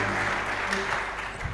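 Steady applause from a sizeable crowd at an awards ceremony fills the whole stretch, a dense even wash of clapping without pauses.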